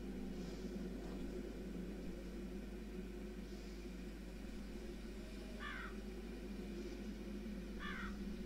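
A black raven caws in the video game Darkness Within, two short harsh calls spaced a couple of seconds apart over a steady low ambient drone, moderately distant and without speech.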